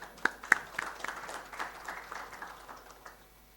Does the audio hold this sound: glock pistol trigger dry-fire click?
no